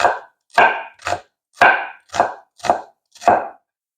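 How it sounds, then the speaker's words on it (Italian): A knife chops an onion finely on a cutting board for a traditional Agrigento dish, giving seven crisp, evenly spaced cuts about half a second apart, close and clear with no talk. "Prendiamo una cipolla e la andiamo a tagliare piccola piccola."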